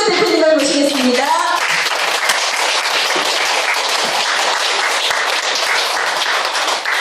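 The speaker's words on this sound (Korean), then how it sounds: "김원교 대표님을 모실 때 여러분들 큰 박수로 환영해 주시기 바라겠습니다" Audience applause greets a company representative at a fashion show, a dense, loud burst of clapping that runs steadily throughout after a brief voice at the start.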